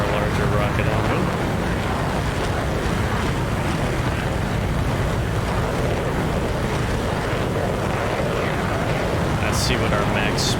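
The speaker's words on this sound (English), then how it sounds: "This is our larger rocket engine" In the DCS World flight simulator, the big AIM-54 missile's rocket motor keeps burning with a continuous, loud, broadband roar that stays steady throughout, with no gaps.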